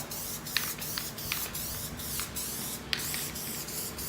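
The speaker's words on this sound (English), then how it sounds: "So one thing that sucks about using spray adhesive is it gets everywhere" Spray adhesive hissing from an aerosol can onto a car interior panel during a Cabriolet interior job, faint and steady with brief spray bursts and no talk.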